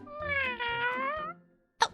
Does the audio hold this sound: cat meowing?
yes